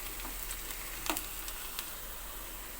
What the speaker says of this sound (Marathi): कांदा आता चांगला फ्राय होत आलाय